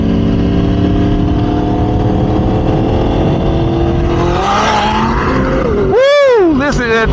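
A 2022 Yamaha R1M motorcycle at racing speed on a small road, its engine roaring loud and steady, then climbing and sweeping sharply through high revs near the end, with a voice talking over the ride.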